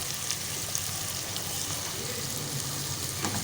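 Green chillies fry in hot oil in a pan for bhindi masala, a steady close sizzle with fine crackling spits running evenly throughout, no talk over it.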